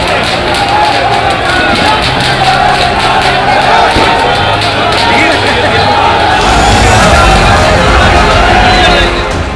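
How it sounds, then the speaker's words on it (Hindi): Large crowd at Ravindra Singh Bhati's Lok Sabha nomination rally in Rajasthan, a dense continuous roar of voices and shouting with no single speaker standing out. "जहां तक देखो भीड़ ही भीड़।"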